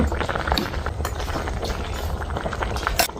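A pot of sour curry with mullet fish and pineapple boils steadily, its bubbling and popping close and continuous, with small sharp clicks scattered throughout.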